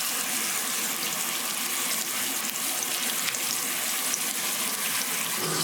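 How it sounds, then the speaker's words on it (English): Onions and mushrooms sizzling in a pan, a steady, fairly soft hiss of frying that carries on without pause and without voices. "you know I gotta get you a little sizzle action"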